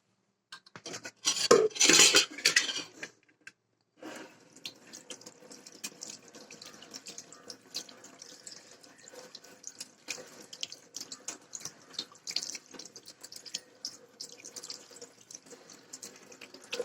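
Hands rubbed with rice flour are rinsed under a running kitchen tap, with a loud gush of water at the start followed by quieter splashing and dripping into a sink.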